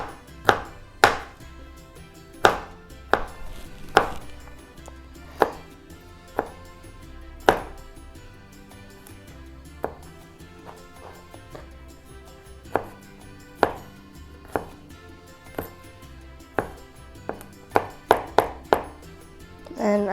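Knife slicing tomatoes for bruschetta on a cutting board, a series of sharp, close chopping knocks at an irregular pace, clustering quickly toward the end.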